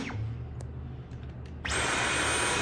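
A Dyson V11 cordless vacuum cleaner hums quietly in eco mode, then abruptly surges to a louder, higher-pitched whine as its suction automatically ramps up near a narrow cardboard box.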